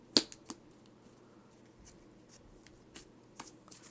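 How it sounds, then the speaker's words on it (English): Pokemon TCG cards being shuffled by repeatedly cutting the deck, giving a handful of short, soft riffling snaps spread through a quiet stretch, close by with no talk. "I'm going to cut this multiple times to shuffle"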